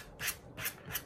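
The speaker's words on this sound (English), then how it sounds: "I'm just going to take the point of my blade and kind of cut scratches" A knife blade point scratches texture marks into the surface of a 15mm wargaming terrain hill, three short rasping strokes close by with brief pauses between them.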